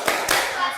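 Two quick hand claps in close succession, crisp and near, like the start of a classroom concentration clapping rhythm.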